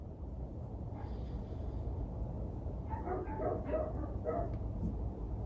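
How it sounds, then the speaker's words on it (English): A neighbor's dog barks and yips in a short, muffled cluster at a distance, faint over a steady low background hum, with no voices present. "My neighbor's dog is going crazy."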